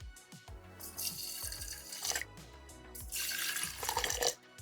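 Water is poured into sprouting jars, about two inches each, for growing broccoli sprouts, mixed with hydrogen peroxide; two close bursts of splashing, gurgling pouring with brief pauses between, and no voices.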